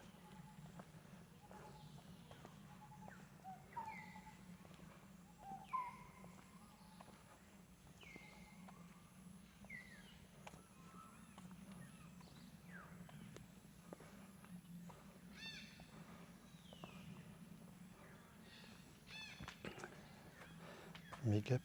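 Birds call on a quiet evening in Cambodia, with scattered chirps and short whistled notes over a low steady hum, faint and mid-distance, while a person talks quietly now and then.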